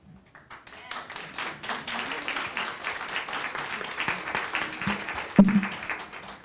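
After a talk about vaccines, an audience gives its speakers a round of applause that starts softly, builds into steady dense clapping and carries on at a moderate level, with a sharper knock near the end.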